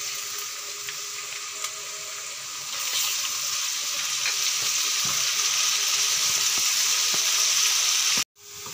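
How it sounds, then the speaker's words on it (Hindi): A normal-size onion with ginger and green chillies fries in a pan for a carrot and pea sabzi: an even close hiss that swells after a few seconds, then cuts off abruptly near the end. "हमने एक नॉर्मल साइज का प्याज लिया है और इसको फ्राई कर लेंगे।"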